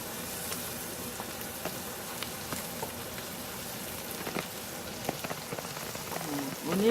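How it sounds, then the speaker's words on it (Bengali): Onions frying on medium heat until brown for a chicken biryani, giving a soft, steady crackling sizzle that is fairly faint and continuous, with a few light stirring touches near the end. "অনিয়নটা ব্রাউন হইতে একটু সময় লাগে,"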